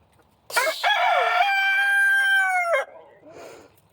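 A backyard rooster crows once, close and loud, in a long two-second call with a rising start and a held, steady tone that cuts off sharply, followed by a few soft clucks.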